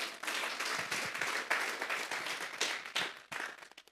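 A church congregation claps together in a sustained, dense burst of applause, loud and close with uneven swells of many hands over about four seconds.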